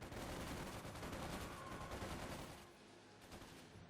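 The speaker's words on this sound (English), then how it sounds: "Quickly gunning them down without mercy." Dense, rapid machine gun fire from Panzer Grenadiers in the World War II strategy game Company of Heroes 2, a loud sustained fusillade that eases slightly toward the end, with no talking.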